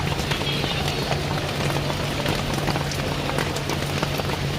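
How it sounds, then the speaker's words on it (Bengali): Heavy rain pouring down in a steady, dense hiss of downpour with a faint low hum beneath it and no voices. "আর কত জোরে বৃষ্টি হচ্ছে, খুব পরিমাণে বৃষ্টি হচ্ছে"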